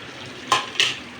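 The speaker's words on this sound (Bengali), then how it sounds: "একটু নেড়ে চেড়ে দেব।" A curry of dried puti fish is stirred in a pan. Two quick, close scrapes of the spoon come over a faint background sizzle.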